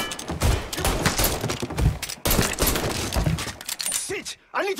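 Dense bursts of gunfire and impacts in the Mafia III Definitive Edition video game on PS5, loud and continuous with crashing and breaking sounds, mixed with shouted character voices.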